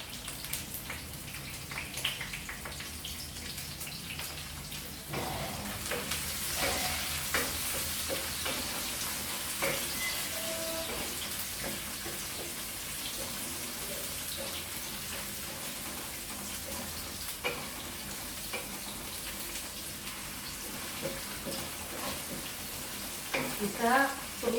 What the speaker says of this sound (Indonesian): kita tumis bawang merahnya dulu.